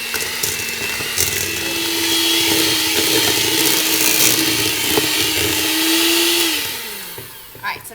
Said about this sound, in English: So now we are going to go ahead and beat this together until it's nice and creamy.